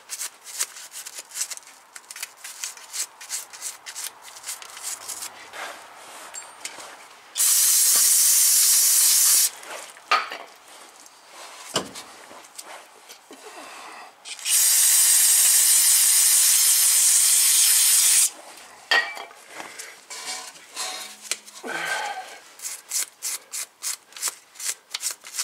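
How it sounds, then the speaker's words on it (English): A toothbrush scrubs the brake caliper seal on a 2014 Toyota Corolla S, a close, rapid, rhythmic bristly rubbing that runs on and off. Two long loud bursts of hissing spray break in between the scrubbing passes. "we'll use a toothbrush. Get all of that yuck in there off of the"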